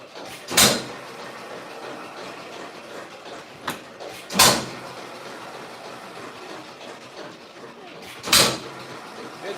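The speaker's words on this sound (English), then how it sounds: "Yeah, maybe open the door." A door opens at a hot rod and custom car shop in snowy weather, with three sharp, loud rattling thuds spaced several seconds apart over a steady low background rumble.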